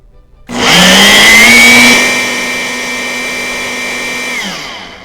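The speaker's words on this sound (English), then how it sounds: "we have added everything into the blender" A blender whirs loudly as it mixes a milkshake of milk with lavender sand sugar, starting abruptly and holding a steady, slightly easing motor drone for several seconds before cutting off.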